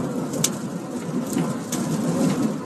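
Rain pouring during an Oklahoma thunderstorm, a dense continuous wash with a low rumble beneath and a few brief sharper cracks, fairly loud and free of talk.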